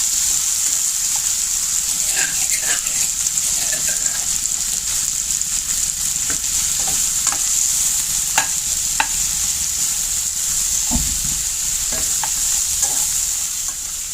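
Pork stir-frying in a pan with homemade pounded curry paste, a steady loud sizzle running throughout with repeated scraping stirs and clinks of the utensil against the pan.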